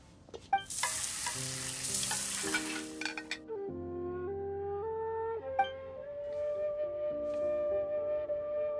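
Crabs cook in a pan in Genshin Impact, a bright sizzling fry surging loudly at first and then giving way to clinking and soft musical tones over a quiet background.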